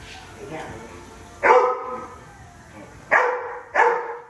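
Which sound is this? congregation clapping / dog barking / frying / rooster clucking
dog barking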